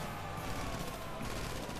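Gunfire in the video game GTA during a police getaway, a dense continuous burst of shots under loud game noise, lasting a couple of seconds.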